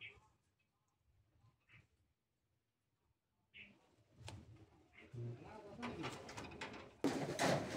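Lotan pigeons at a pigeon farm give a few soft, low coos in a quiet space, followed by louder rustling, clatter and voices.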